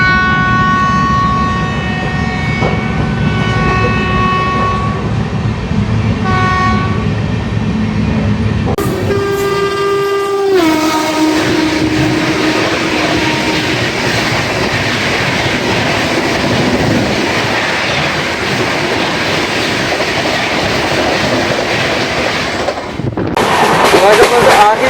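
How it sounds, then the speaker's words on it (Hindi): The Howrah Rajdhani express rushes through Ong station with a loud, steady roar of wheels and clattering coaches, and a long horn blast joins partway through before the sound cuts off abruptly near the end. "अब बारी है हावड़ा राजधानी की, जो कि अभी इस ओंग स्टेशन को पार कर चुकी है।"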